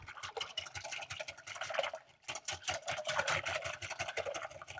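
A whisk beats egg-based coconut pie filling in a bowl, a fast continuous run of light rapid ticks and swishes, close by, breaking off briefly midway before resuming.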